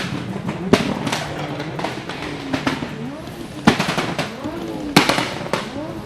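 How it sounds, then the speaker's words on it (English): Drift cars at a Drift Kings Asia round in Malaysia fire off loud, sharp exhaust pops and bangs in irregular bursts over revving engines, some cracks rapid like gunfire, with a voice faintly present underneath. "You don't need to do a pop and bang show."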